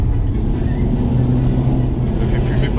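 Cars overtaking on the Nürburgring circuit, including VW Golfs and a Mazda Miata, heard as a loud, steady engine drone that stays close and unbroken throughout.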